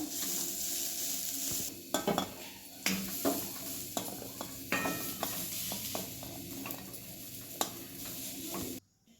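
Oil sizzles steadily in a kadhai as cabbage is stirred and browned, with repeated scraping clatters of a utensil against the metal, close and fairly quiet.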